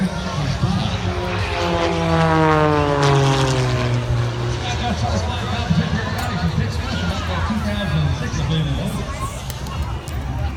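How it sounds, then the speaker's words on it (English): An MXS carbon fiber propeller aerobatic airplane flying at an airshow, its engine drone sweeping in pitch as it passes, loud and near, then receding under crowd murmur and an announcer talking. "Progressing himself up to this MXS airplane he's flying for today."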